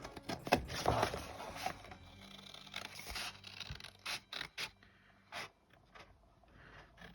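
Scissors cutting cardstock paper for a gift bag: scratchy, rasping snips up close, denser at first and then breaking into a series of short, separate cuts in a quiet room.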